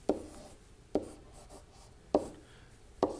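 A pen sketches a force diagram on paper in four short, distinct strokes spaced roughly a second apart, close and fairly quiet, with no talking.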